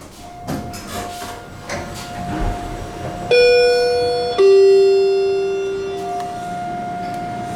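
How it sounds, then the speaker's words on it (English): Schindler 500A traction elevator in a hotel parking garage sounds its arrival chime, two bright sustained electronic tones one after the other, ringing out clearly over faint background hum before decaying slowly. "I want to sample that chime again. I love that chime."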